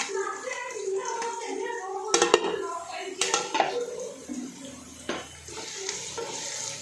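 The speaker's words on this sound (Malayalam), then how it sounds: "നല്ലപോലെ ഇളക്കി കൊടുത്ത് ഒരു ബ്രൗൺ നിറമാകുമ്പോൾ കോരി മാറ്റി വയ്ക്കുക." Sliced onions sauté in a pan for chicken biryani, stirred until browning, with a gentle sizzle under irregular clanks and scrapes of a utensil against the pan.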